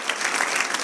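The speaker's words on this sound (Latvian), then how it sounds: "Tad ar skaļiem aplausiem sagaidīsim mūsu pirmo runātāju." Audience applause at a FuckUp Nights talk event in Riga, a brief burst of dense, steady clapping from a crowd.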